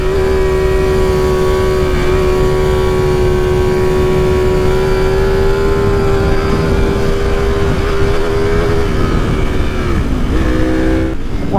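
A Ducati V4R 2023 motorcycle engine roars loud and close, holding a steady high pitch before dipping briefly near the end.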